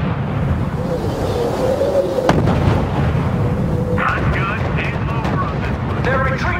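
Gunfire and artillery blasts from the real-time strategy game RUSE, a steady dense rumble of battle with one sharp boom. Game radio voices and chatter are heard over it.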